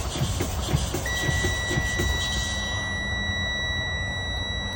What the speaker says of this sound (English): I see the light and I hear the buzzer